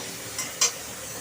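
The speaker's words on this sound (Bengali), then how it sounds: "ভালো করে আমড়াটা আমি নাড়িয়ে নিয়েছি" Hog plum (amra) pieces are stirred in a pan, with two brief, soft scraping swishes close by over a faint background hiss.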